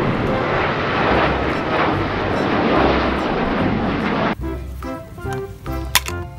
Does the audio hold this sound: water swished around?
no